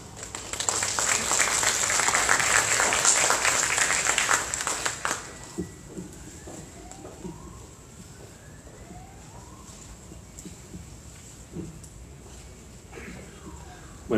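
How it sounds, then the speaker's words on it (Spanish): Audience applause at a conference on CTS and working mothers' rights, a dense, loud wash of clapping for about five seconds that then stops, followed by quiet room sounds and faint, sparse noises. "Lo recibimos con un fuerte aplauso."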